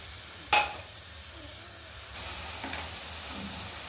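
Fenugreek leaves fried in about four spoons of oil, a brief sharp sizzle and clatter as they land, then a steady, soft frying hiss that carries on with faint stirring.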